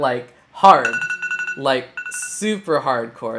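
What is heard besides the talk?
alarm going off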